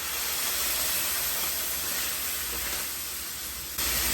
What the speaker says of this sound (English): I'm going to add a small amount of water to release the beef from the bottom of the pan